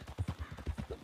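Horse hooves clip-clopping in the game RedM, a quick, even run of about eight close hoofbeats in a steady walking rhythm with no talk over them.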